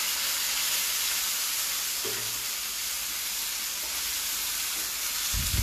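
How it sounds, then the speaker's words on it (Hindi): Chopped tomatoes hit a hot tadka of fried spices in a pan, giving a steady, loud sizzle and hiss that fills the clip, with a few faint knocks and a stir near the end. "ये जो टमाटर है वो मैं डाल दूंगी तड़के के अंदर"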